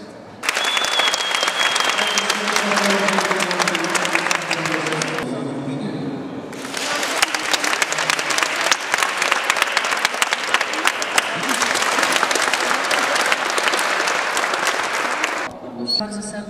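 Audience at a volleyball tournament in Tomaszów Lubelski breaks into loud, sustained applause in two long waves, with someone speaking over the start and a brief pause between rounds of clapping.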